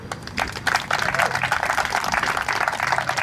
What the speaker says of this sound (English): let's give a big round of applause for our wonderful mayor, Melvin Carter